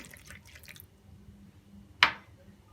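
Water splashes into cake batter once, a single short, wet plop after a quiet stretch of faint kitchen noise.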